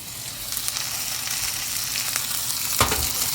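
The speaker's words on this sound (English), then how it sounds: "So let this fry for a little bit." Onions frying in a pan with chili powder and salt, making a steady close sizzle throughout with a brief stir or clatter near the end.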